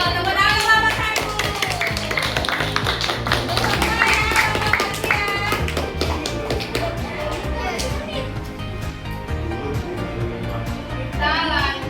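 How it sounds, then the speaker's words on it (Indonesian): Applause for teachers at a school gathering comes as dense, continuous hand clapping that runs the whole time, mixed with voices talking. "Tepuk tangan buat Bapak Ibu"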